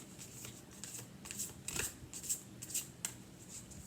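Tarot cards being shuffled and drawn give a run of soft, irregular papery flicks and slaps, close and fairly quiet, with no voices.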